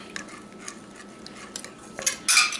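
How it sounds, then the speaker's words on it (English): A spoon stirs tartar sauce ingredients, including pickle juice, in a bowl, with light scattered clinks and scrapes close by that build to a louder scraping flurry at the end, with no talking. "Just mix all of that up."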